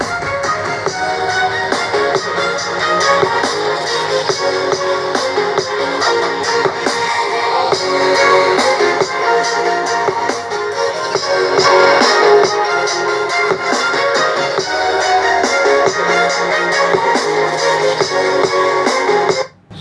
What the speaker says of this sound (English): So that's the sound of the channel speakers only.